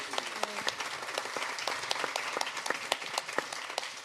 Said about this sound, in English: I would like to applaud the family that you are right now